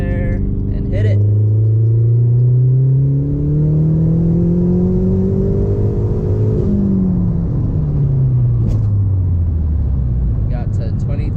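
A tuned Mazdaspeed car running FreekTune revision 4, with its turbo at 23 psi boost, revs hard under acceleration. The loud engine note climbs in pitch, drops briefly at a gear change, then climbs again.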